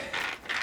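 Short ratcheting clicks of a screwdriver tightening a screw on a Losi Promoto-MX RC motorcycle, two quick close bursts of mechanical clicking.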